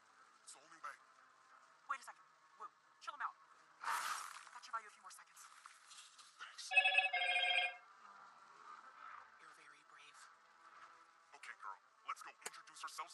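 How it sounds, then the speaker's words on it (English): A telephone rings in short bursts, including one loud sustained trill near the middle, amid faint clicks and scattered sounds. "The phone keeps going off."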